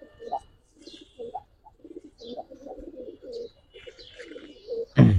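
Giribaz pigeons cooing in a loft, soft throaty coos repeating in short bursts, close and moderately loud, with someone talking over them and a sudden loud flutter or thump at the end.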